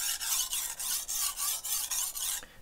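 A Wusthof chef's knife is sharpened on a whetstone with push-pull strokes: about eight smooth, even, gritty swishes in steady rhythm, close and alone.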